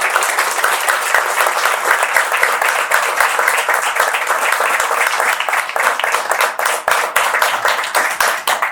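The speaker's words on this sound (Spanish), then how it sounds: "peço mais uma vez uma salva de palmas" Sustained applause from an audience at an institute's launch event, welcoming Ecuador's former president Rafael Correa, dense clapping that holds steady throughout with no pause.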